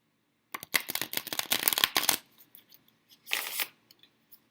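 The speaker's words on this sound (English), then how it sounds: "These cards have also been shuffled before, but I'm doing a shuffle now." Tarot cards being shuffled close up: a quick riffle of rapid flutters, a pause with light taps, then a shorter second riffle.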